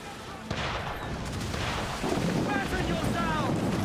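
Mortar fire aimed at a sailing ship in Assassin's Creed 4: a sudden loud boom followed by continuous rumbling blasts, rushing water and wind, with a second heavy impact partway through.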